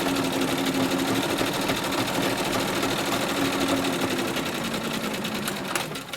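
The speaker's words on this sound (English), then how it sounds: "And yes, this is a treadle machine." A treadle sewing machine stitches a pocket onto a patchwork skirt, running with a steady, fast mechanical clatter close up and without pause. No one speaks.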